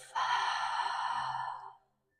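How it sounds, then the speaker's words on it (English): One long, deep breath pushed out through the mouth during a yoga flow, close and breathy, steady for about a second and a half before trailing off into silence. "Exhale through the mouth"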